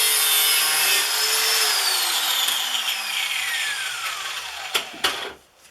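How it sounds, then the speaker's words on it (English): Angle grinder making a 45-degree cut, a loud high-pitched whine whose pitch slowly descends as the disc bites in, ending with a few sharp knocks as the grinder winds down. "we go over to the angle grinder and go ahead and just cut the 45 degrees."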